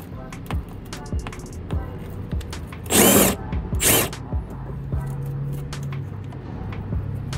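A power tool with a 10 mm socket spins off fender flare bolts on a Toyota Tundra, giving two loud, short whirring bursts close by, with light clicks and handling noise around them.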